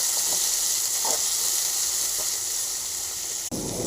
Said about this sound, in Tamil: இப்போ ஆனியன் நல்லா வதங்கிட்டுருக்கு.